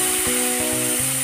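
Green peas tipped into a pan of fried spices hiss with a steady bright sizzle, a few soft clunks and stirring knocks breaking up the frying noise over just over a second.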